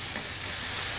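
Apples seasoned with cinnamon and nutmeg cook down in a pan, giving a steady, close sizzle of soft frying with no voices over it.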